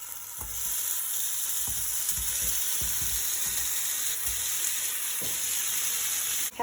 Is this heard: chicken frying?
yes